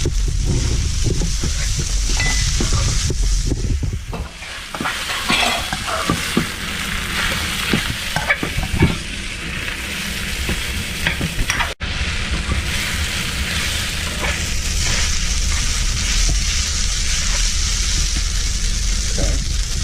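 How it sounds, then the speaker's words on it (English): Pad Thai noodles being stir-fried and tossed in oil, a loud, close, continuous sizzle with irregular scraping and stirring bursts and a sharp clack near the middle, no speech. "mix it up really good so the noodle gets the oil coated all the way around"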